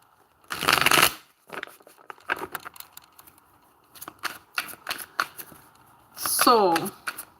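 A deck of tarot cards is shuffled close by in two sharp riffling bursts, with lighter taps and card handling between them.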